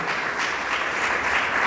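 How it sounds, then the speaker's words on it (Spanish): Church congregation clapping in praise during a sermon, a steady broad wash of many hands filling the whole moment without a break. "Dele palmas al Dios del cielo."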